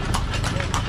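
A horse's hooves clip-clop on a street in Bali in a quick, even rhythm of loud, close strikes, with people talking over the sound.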